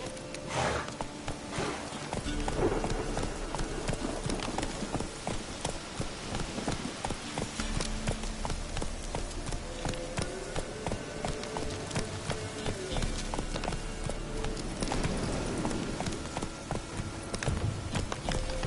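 Roach the horse galloping in The Witcher 3: continuous rhythmic hoofbeats at a fast pace, close and fairly loud, running the whole length with no talking.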